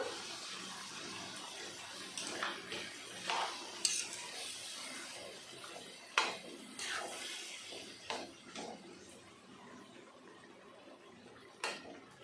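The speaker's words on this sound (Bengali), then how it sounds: "মিক্সির জারটা ধুয়ে দিয়ে দেবো সামান্য একটু জল" A mixer-grinder jar is rinsed and topped with a small splash of water while rajma masala is cooked, giving a steady wash of running, sloshing water broken by several sharp clinks and knocks of the jar, with no talking.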